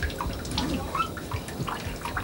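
Water runs from a tap into a washroom sink, a soft splashing trickle with scattered drips and gurgles, fairly quiet and close.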